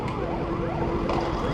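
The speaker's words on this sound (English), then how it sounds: "Ambulance." A wailing ambulance siren sweeps up and down continuously, fairly close and loud over a dense background of traffic rumble, heard from a motorcycle.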